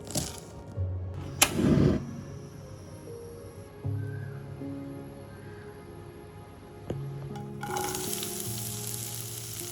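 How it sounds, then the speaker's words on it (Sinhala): Chopped onions fry in a pan for a potato taco filling. A soft, steady sizzle continues throughout, broken by a few stirring clatters and a sharp knock, close and fairly quiet, with no talking. "කපාගත්ත ලුණු ටික අපි මේ විදිහට ටිකක් වෙලා බැද ගන්නවා"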